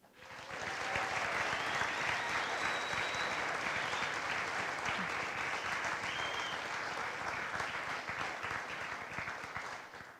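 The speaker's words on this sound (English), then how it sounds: "Ladies and gentlemen, please give another round of applause for all of our awardees." An audience at a military volunteer awards ceremony breaks into sustained applause that swells quickly and stays dense and even for several seconds before easing slightly.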